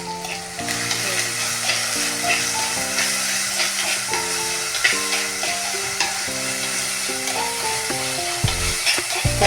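Onions and tomato fry in a pan for a Kerala fish curry, giving a steady close sizzle and hiss with occasional stirring, under background music.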